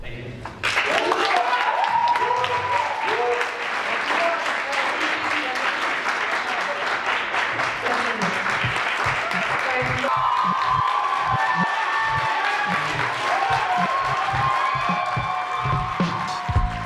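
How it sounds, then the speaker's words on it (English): Supporters at a student union election debate clap and cheer loudly, a dense continuous roar of applause with shouts and whoops mixed through it, filling the whole stretch at steady volume. "the debates ended up turning into a fiesta of which group's supporters could clap the loudest"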